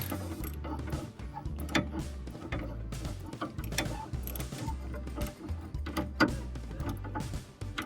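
Mechanical ratcheting and creaking as a nut is tightened down on the steering idler ball joint of a Chevy Camaro, irregular clicks and metal scrapes close up, steady throughout with no talk.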